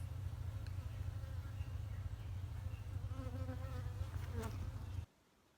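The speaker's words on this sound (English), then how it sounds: "I decided to open the entrance so that more bees can come in and out of the hive" Dense, steady buzzing of many honey bees close by at an opened hive entrance, a continuous hum that cuts off abruptly near the end.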